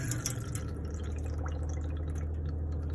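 Water runs steadily from the sink tap in an Autosleeper Gloucester campervan, a continuous close splashing flow with a low pump-like hum beneath, no talk.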